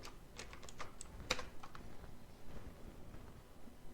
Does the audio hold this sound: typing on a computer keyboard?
yes